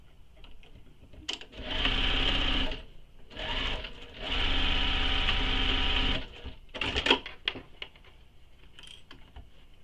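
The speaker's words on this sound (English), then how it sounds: "And then just sew them together." Sewing machine stitching bag fabric pieces together, three close bursts of fast, steady whirring stitching, the last one longest, followed by clicks and handling noises of fabric and machine parts.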